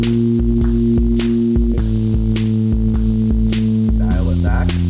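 Tambourine drenched in reverb in a studio mix, sharp repeated jingles in a steady rhythm that smear into a wash, over sustained bass and synth tones, loud and without talking.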